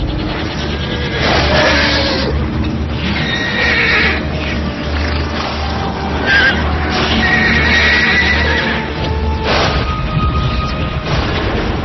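A horse neighs loudly in repeated whinnies over a dense, continuous background of rumbling booms and hoof clatter in a battle setting, with no talking.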